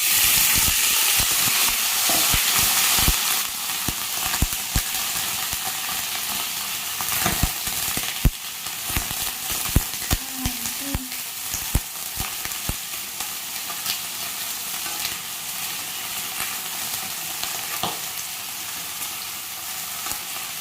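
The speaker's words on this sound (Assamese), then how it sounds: "এতিয়া মই এইখিনি পুঁইখিনি দি দিম।" Malabar spinach goes into a hot wok with mustard seeds and sizzles and hisses loudly and steadily, broken by scattered clinks and scrapes of stirring, heard up close with no voices.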